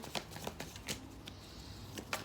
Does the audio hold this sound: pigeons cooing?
no